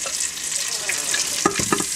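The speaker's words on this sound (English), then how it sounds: "I'm going to add them right in here while it's still in browning mode." Quartered potatoes sizzle and fry in a hot Cuisinart pressure cooker set to browning mode, a steady, moderate crackle with a few louder sputters as they settle, and no voices.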